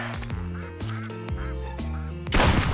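Cartoonish duck quacks from the Duck Hunt video game, several loud nasal calls in quick succession over chiptune-style game tones, ending in a burst of noisy static.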